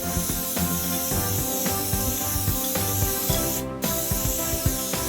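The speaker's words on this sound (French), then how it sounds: "Grâce à cette nouvelle bombe, on pourrait faire des tags monstres." Spray paint can spraying graffiti, a loud continuous close hiss with brief breaks and shifts in pressure, heard alone.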